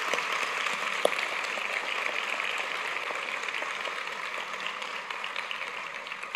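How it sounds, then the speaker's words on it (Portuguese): A church congregation applauds for the fathers, a steady, moderately distant wash of clapping that holds evenly for several seconds with one sharper clap standing out near the start. "Gostaria que a igreja desse uma salva de palmas também para os nossos pais."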